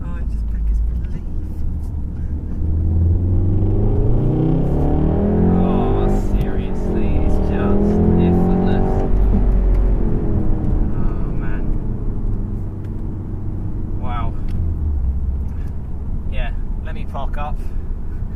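A VW Golf R on Michelin Pilot Sport 4 tyres is driven hard, its engine note rising and falling through gears with loud road and tyre roar, and someone talks excitedly over the drive.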